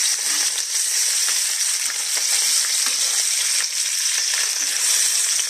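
Fish frying in a pan gives a loud, steady sizzle with small crackles and spits throughout, close and unbroken.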